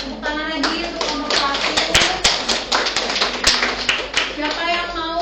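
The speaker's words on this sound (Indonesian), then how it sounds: "Tepuk tangan lagi untuk kelompok" An audience claps for a group presentation in a classroom, a burst of dense, close applause that continues steadily and tapers at the end, with voices mixed in.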